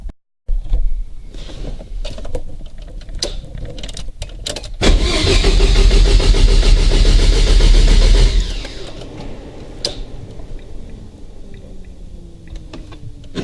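A Mazda RX7 rotary engine cranks and fires, a loud close starter churn building into a roaring catch for several seconds before settling to a rougher, quieter idle with scattered clicks.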